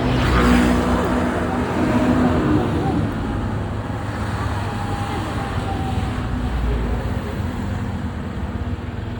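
A motorcycle rides through heavy traffic with many trucks, giving a continuous loud rumble of engines, tires and wind, a little heavier at the start and steady afterward.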